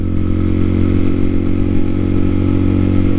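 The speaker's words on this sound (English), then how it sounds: "I was using fourth gear in town to keep the engine calm." A TaoTao TBR7 motorcycle with a 17T front sprocket rides through town in fourth gear, and its engine gives a steady, loud, even drone with no revving.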